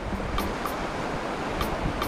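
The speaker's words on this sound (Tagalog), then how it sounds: "Ang laki ng alon." Big ocean waves wash in a constant roaring surf near a fishing spot off St. Lucia, Mauban, Quezon, a loud, dense wash with a few brief splashy bursts and no talking.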